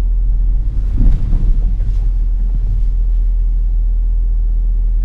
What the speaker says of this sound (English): Now we're driving over this former military bridge.